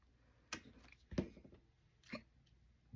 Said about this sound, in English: Now I got the hiccups, of course.